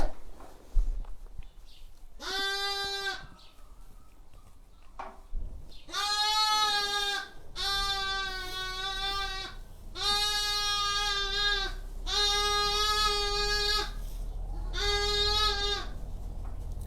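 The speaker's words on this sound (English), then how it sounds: "Hopefully you can hear me over these noisy lambs." Lambs at an Easter lambing on a farm bleat loudly and close by in repeated long, wavering cries, several in a row, over steady background noise and occasional rustling steps.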